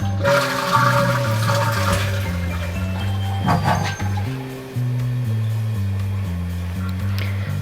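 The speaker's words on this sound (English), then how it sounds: "it would flush and it sounded like it was okay, but it would keep filling" A household toilet that keeps running after flushing roars loudly with rushing water, then settles into a steady refill hiss and trickle, close by and alone without talk.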